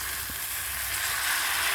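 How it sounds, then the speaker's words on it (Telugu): Onion masala frying in a pan, a continuous soft sizzling hiss that brightens slightly toward the end, with no voices. "పచ్చివాసన పోయినంత వరకు ఫ్రై చేసుకోవాలి"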